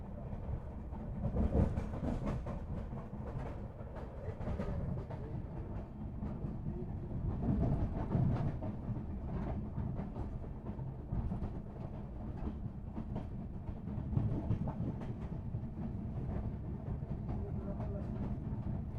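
The 20508 Sairang Rajdhani Express runs on tracks from Anand Vihar, with a continuous heavy rumble and steady clickety-clack of wheels over rail joints lasting throughout.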